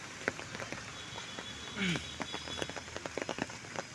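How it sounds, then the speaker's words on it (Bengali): Heavy rain falls on a Dhaka city street as a steady patter with scattered sharper drips and taps. A brief voice-like sound rises partway through. "আজকে সারা বাংলাদেশে বৃষ্টি হচ্ছে ঢাকার শহরে বিশেষ করে আজকে সারাদিনই বৃষ্টি"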